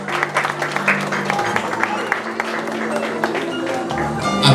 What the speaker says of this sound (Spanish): Fuerte el aplauso para él, por favor.